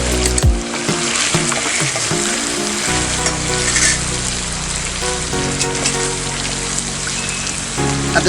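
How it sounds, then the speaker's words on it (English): Water poured into a hot pan of Khasi-style fermented soybeans (tungrymbai) sets off a loud, dense sizzle and bubbling hiss that runs steadily for several seconds, close up with no talking. "At this point of time, you need to add water"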